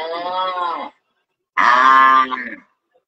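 Two loud, close cow moos, each lasting about a second, separated by a short silence, with no other sound around them.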